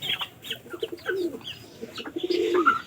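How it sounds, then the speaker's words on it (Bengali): Pigeons cooing close by in a loft, several soft repeated coos overlapping with a few faint chirps. "আমাদের এই যে এই কবুতরটা দেখেন, মানে এই কালারের কবুতর কিন্তু আমাদের সবচেয়ে প্রায় বেশি"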